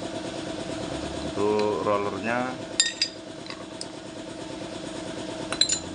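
Motorcycle engine idling with a steady low clattering, metallic clinks and taps over it, while someone speaks close by.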